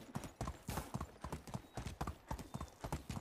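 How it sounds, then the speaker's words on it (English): A horse's hooves in Medieval Dynasty clip-clop in a steady, evenly spaced rhythm, close and fairly quiet, with no voices. "Just giving my horse a break"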